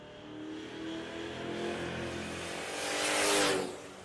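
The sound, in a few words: drag racing cars accelerating down the strip at Tulsa Raceway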